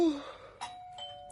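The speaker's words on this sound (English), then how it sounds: "He's about to ring your doorbell." A doorbell chime rings out as a radio drama sound effect, two clear tones sounding in quick succession with a sustained ring, loud and close against a quiet room.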